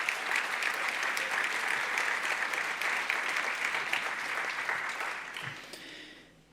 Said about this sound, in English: let's just give them a quick round of applause for putting all of this together.